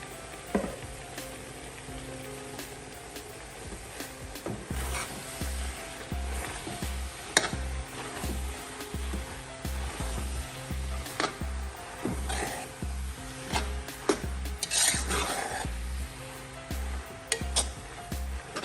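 Cucumber pieces stir-fried in an oily pan, a steady close sizzle and frying hiss with frequent clinks and scrapes of a utensil against the pan throughout.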